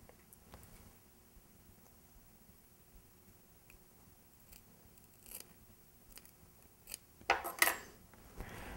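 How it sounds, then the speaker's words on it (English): Quiet room with a few faint snips, then a cluster of sharper, closer scissor cuts near the end, as scissors cut a guinea fowl feather beside its shank while tying a soft hackle fly. "I'm going to take my scissors and I'm just going to cut right next to the shank of the feather"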